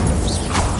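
Hogwarts Legacy's Incendio fire spell erupts in a single loud whooshing burst, a crashing rush of flame over heavy low rumble, all within a second.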